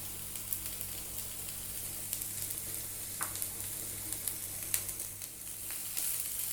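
Chopped cabbage and onion sautéing in a pan, a steady close sizzle broken by soft stirring scrapes and little pops, with no talking.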